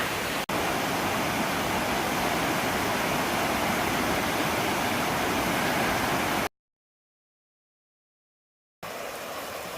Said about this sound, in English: Right next to the Chattooga River.